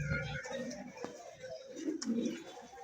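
Fancy pigeons in a loft in Natore, Bangladesh, giving soft low coos, several calls close and fairly faint over a quiet background.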